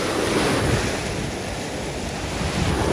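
Ocean surf at a Miami beach rushes and washes continuously, loud and close, with wind buffeting the microphone and no talking.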